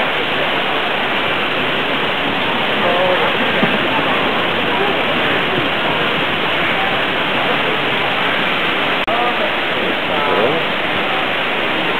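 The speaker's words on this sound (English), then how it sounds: "water flowing." Water pours steadily in an indoor wildlife display at a Cabela's store, giving a dense, continuous splashing rush like a small waterfall, loud and even throughout, with faint voices in the background.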